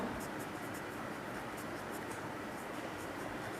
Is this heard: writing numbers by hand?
yes